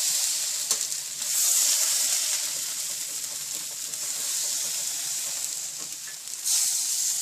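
Rava dosa batter sizzles and hisses steadily on a very hot pan, a close, continuous frying crackle with no talking.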